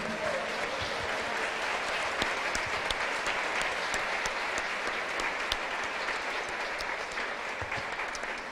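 A church congregation applauds during a Palm Sunday service, sustained dense clapping from many people at a steady, moderately distant level, with a few sharper individual claps standing out.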